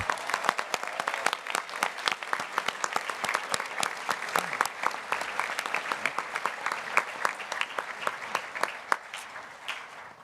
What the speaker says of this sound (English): A big round of applause for these incredibly dedicated students.